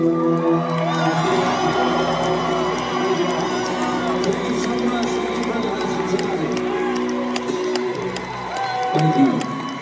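Country concert crowd at the Clay Center in Charleston, West Virginia, cheering and whooping loudly after a song, with sustained shouts and scattered clapping while voices and stage sound mingle throughout.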